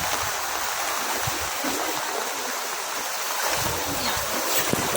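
A river swollen by Typhoon Enteng in Burdeos, Quezon rushes past in a steady, dense roar of churning water, continuous and fairly distant, with no speech over it.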